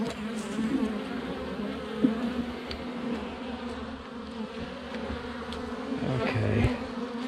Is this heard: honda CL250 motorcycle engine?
no